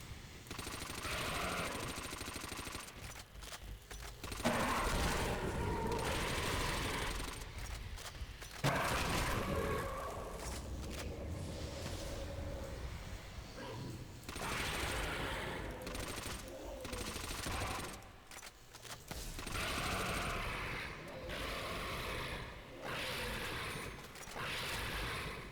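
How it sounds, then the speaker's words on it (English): Rapid assault rifle fire in a video game, bullets flying in dense, sustained bursts with brief gaps, loud and continuous across the whole stretch, with faint talk mixed in. "I do love the bullets flying though"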